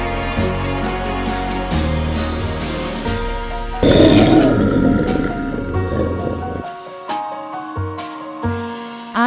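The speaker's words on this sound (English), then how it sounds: "the witch heard a roar that was scary and loud" A dragon roar sound effect in a children's audiobook: a deep, loud, rumbling roar of a few seconds over a music bed, with sustained instrumental tones before and after.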